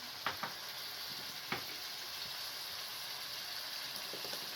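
Spices and ground tomatoes sizzle in a mutton karahi, a steady hiss of frying with a few sharp crackles and pops near the start, continuous and fairly quiet with no talking.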